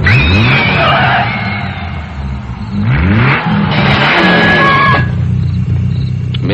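A Ferrari engine revs and accelerates loudly and close, rising sweeps of engine roar building and falling across the stretch, with no voices over it.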